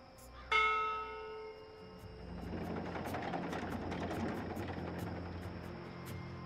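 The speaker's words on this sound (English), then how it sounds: "this is a ship's bell. They use this to signal the crew when a load of cargo is ready to be hoisted up." A ship's bell on a cloud ship in the video game Dreamfall Chapters strikes once, clear and ringing, then fades under a rising engine-like drone.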